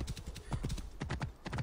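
Horse hooves clip-clopping in the video game Assassin's Creed Origins, a steady galloping rhythm of close, loud thuds throughout.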